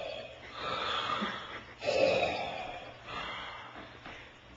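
A voice imitates a man snoring at night while backpacking, producing raspy, wheezing inhaled snorts in two or three drawn-out breaths, close and fairly quiet.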